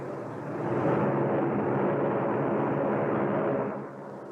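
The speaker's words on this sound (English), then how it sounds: "You hear that? Those are FBI planes." A dense, continuous drone of propeller airplanes flying overhead, swelling after the first half second, holding steady, then easing slightly near the end; no voices over it.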